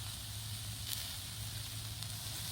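Burgers cooking over an outdoor camp fire give a steady, close sizzling hiss that runs without a break, with a faint low hum under it and a few soft crackles.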